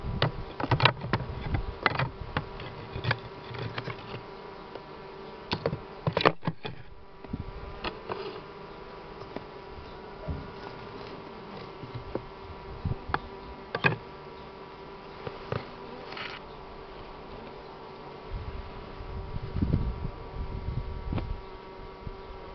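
Buckfast honey bees buzz around an open hive during spring expansion, a dense continuous drone close to the microphone with scattered sharp taps and clicks of hive handling, and no talking.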